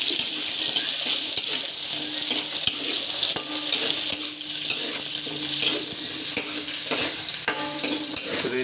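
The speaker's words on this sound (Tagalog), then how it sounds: "ipiprito muna natin itong patatas at saka carrot" Potatoes and carrots frying in a pan for a pork rib kaldereta, a steady broadband sizzle running throughout with occasional stirring clinks and scrapes, close and fairly loud, no voices.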